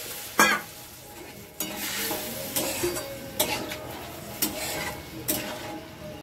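Egg curry bubbles and sizzles in a pan just after water is poured in, with a steady frying hiss, several sharp stirring scrapes and clinks of a spoon against the pan throughout.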